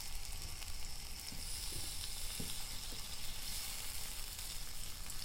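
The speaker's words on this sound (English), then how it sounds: "I'm gonna add my tomatoes just so those cook down just a little bit and they aren't super liquidy." Tomatoes sizzle in a hot non-stick frying pan, a steady dense hiss with a few soft stirring taps, alone and moderately close.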